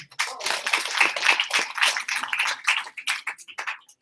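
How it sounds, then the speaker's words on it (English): An evening audience claps for a speaker's introduction, a dense, steady burst of applause that stays fairly loud and close, then thins into scattered claps toward the end. "Can we give Eugene a round of applause?"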